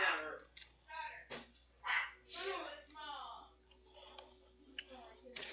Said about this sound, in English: The dogs are going off.